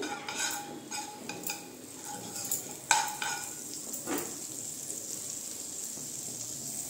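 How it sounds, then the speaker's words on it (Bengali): Butter melts and sizzles in a hot wok (kadai) while bread is being made for a Bengali snack, giving a soft, steady frying hiss broken by several sharp clinks and scrapes of a utensil against the pan. "এই যে কড়াইতে দেখেন আমি বাটার দিয়ে দিচ্ছি।"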